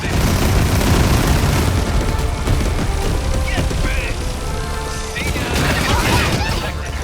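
Suppression rockets fire in the mecha battle game 13 Sentinels: Aegis Rim, a dense, loud barrage of booming blasts and crackling impacts that runs through the whole stretch, with game speech layered over the barrage.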